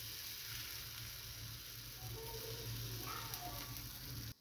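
Besan batter spread thin in a hot pan gives a soft, steady sizzle with a low hum underneath, continuous and close for about four seconds before it cuts off abruptly.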